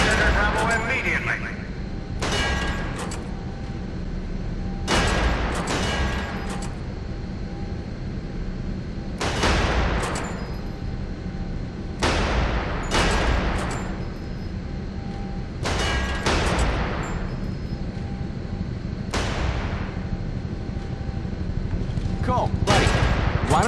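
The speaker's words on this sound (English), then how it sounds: "Step on over to the range and fire off a few shots." Gunshots crack at a shooting range in the video game Area 51, with about a dozen separate loud reports spread irregularly over a steady background hum, each shot ringing out clearly.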